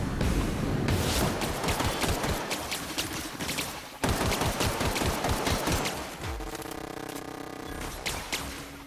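Rapid bursts of gunfire from The Outer Worlds video game rattle loudly in fast repeated volleys, then taper into quieter scattered shots and mechanical clatter toward the end, with no talking over them.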